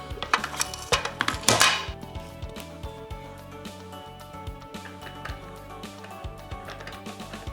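The two plastic halves of a Raspberry Pi touch-screen stand clamp together, giving a few sharp clacks and knocks close up, followed by scattered light plastic taps and rattles.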